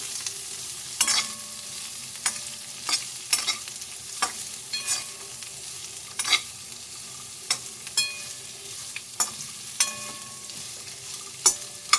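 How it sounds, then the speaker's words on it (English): Chopped carrot frying in a pan with red chilies and garlic for chutney, a soft continuous sizzle broken by sharp scrapes and clinks of stirring every second or so. "this also you need to fry along with red chilies and garlic"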